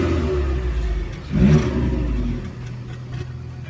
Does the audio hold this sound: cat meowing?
no